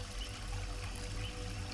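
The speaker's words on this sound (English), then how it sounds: "This bridge crosses over the rushing stream" A rushing stream flowing beneath an old wooden footbridge above a waterfall in a rainforest: steady, broadband watery rushing, even and continuous throughout with no other sounds.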